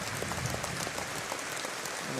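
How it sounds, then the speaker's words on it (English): Stadium crowd applauding at a Munster v Barbarians rugby match in a new stadium, held in place of a moment of silence; a faint, distant, continuous patter of many hands with no voices on top. "the moment of applause rather than silence is being held"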